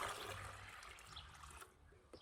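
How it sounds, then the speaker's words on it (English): Two litres of water poured into a bucket to make bubble solution, a steady rushing splash close by that fades toward the end with a brief clatter. "I'm going to pour it into my bucket"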